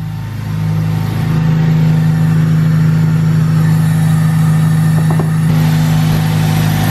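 A car with a VTEC engine accelerates hard, its loud, close engine note climbing steadily and holding a strong, even drone for several seconds with no talking.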